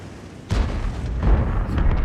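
Tank gun firing in World of Tanks, from a VK 100.01 (P): a sudden heavy boom cuts in after a quiet moment, followed by a rumbling explosion and further deep thuds, loud and close, with no talk.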